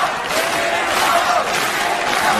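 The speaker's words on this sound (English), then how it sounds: "The fans are absolutely cheering." MMA fans at a Muhammed Lawal versus Mirko Cro Cop Filipovic knockout fight cheer and roar as a loud, dense arena crowd that holds steady throughout.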